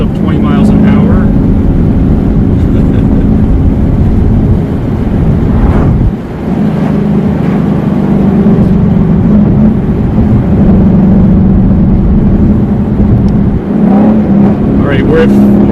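A car engine revs at around 4,000 RPM in second gear, a steady loud drone that holds throughout with a brief dip partway through, as someone talks over it.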